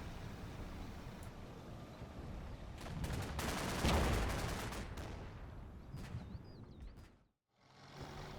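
Gunfire during a company-level infantry firefight in the Combat Mission wargame, a distant rattling of rifle and machine-gun bursts that swells into a dense fusillade near the middle, then briefly cuts out before resuming.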